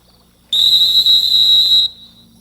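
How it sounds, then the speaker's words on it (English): One loud, sustained blast on a dog training whistle used to stop a hunting retriever, sharp and high-pitched, lasting over a second in an otherwise quiet outdoor setting. "We'll stop her with a whistle, make her answer the whistle"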